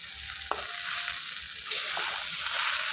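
Chickpea lentil bori dumplings fry in hot oil in a home Bengali kitchen, giving a steady close sizzle that swells louder partway through, with a few faint clinks and no talking.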